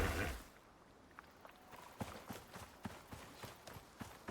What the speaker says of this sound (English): wait, there's one of those horses.